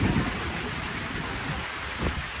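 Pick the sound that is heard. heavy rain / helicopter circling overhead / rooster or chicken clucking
heavy rain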